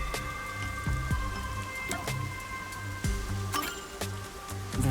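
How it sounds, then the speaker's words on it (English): Steady rain falls in the video game Master Detective Archive: Rain Code, a constant patter with scattered heavier drips and soft clinks, alongside a low sustained musical hum. "The rain just won't stop, huh?"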